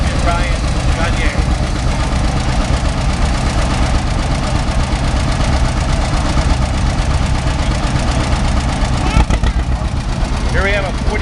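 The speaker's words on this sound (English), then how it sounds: "Here we have a 1950 Minneapolis Moline RTE, and it's owned by Dave and Brian Gagne." A 1950 Minneapolis Moline RTE tractor idling steadily at an outdoor tractor parade, a continuous mid-to-low engine rumble throughout, fairly loud with crowd noise around it.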